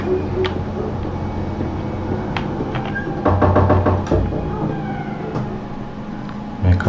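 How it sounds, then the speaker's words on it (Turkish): Knocking on a door inside the video game Mafia 2: a quick series of sharp knocks in the middle, over a low rumbling background, with a few other scattered thuds. "Kapıyı çaldık"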